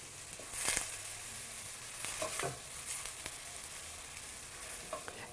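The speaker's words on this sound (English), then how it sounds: "You can add a little bit of salt at this point, and that will help to break down the onions and soften them and get them cooking a bit" Onions sautéing with salt in a pan for risotto give a soft, steady sizzle with a few light clinks and scrapes of stirring, quiet and close, with no talking.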